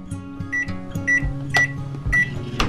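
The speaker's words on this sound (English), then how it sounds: "I'm gonna put that on this plate, microwave it, and eat it" A microwave oven heats a pre-made egg bake on a plate, its steady hum running beneath several short beeps and clunks of the door and buttons, close by with no talking.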